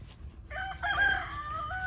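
Chickens and ducks in a farmyard, with a rooster-like crowing call rising loud and close after a half-second of low background noise, then fading into continued fowl calls.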